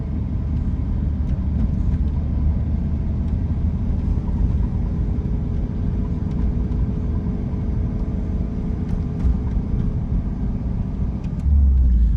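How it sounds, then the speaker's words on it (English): A car creeps slowly uphill in first gear through a Little Rock residential neighbourhood, its engine giving a steady low rumble with road noise, near and continuous, with a slightly louder swell near the end. "We're just gonna keep it on first gear, and we're just gonna float very slowly. We're going uphill."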